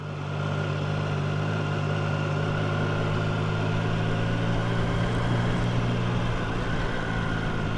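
A Triumph Tiger Sport 660 motorcycle lugs in second gear at low speed, its engine giving off a steady, low droning hum with no break, heard close and without talking.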